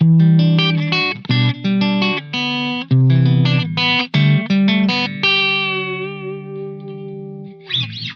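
Electric guitar, a Fender with a 2016 Mexican-made alder body, played through distortion and effects: chords and riffs in choppy bursts, then a long ringing note that slowly fades. No talking.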